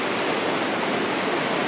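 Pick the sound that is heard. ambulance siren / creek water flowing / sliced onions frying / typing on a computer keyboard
creek water flowing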